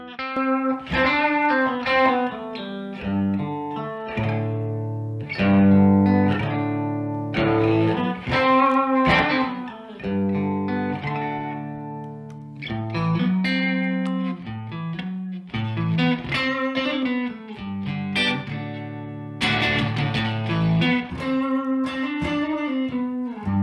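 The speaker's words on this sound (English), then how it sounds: "I will play a little with a very slight drive to have some harmonic content" An electric guitar with very slight overdrive plays a melodic run of single notes and chords, clear and close, with ringing sustain and short gaps between phrases, recorded through microphones for comparison.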